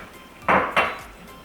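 A teaspoon with a rounded point scooping seeds from inside a raw squash: two short, close scraping clinks of metal against the firm flesh, about a quarter second apart, in a quiet kitchen.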